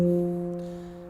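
A single struck note from the center of an F Pygmy handpan rings out with a warm, steady metallic tone and clear overtones, slowly decaying over about a second, close and alone.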